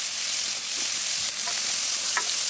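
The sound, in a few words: stirring squash and string beans with shrimp paste in pan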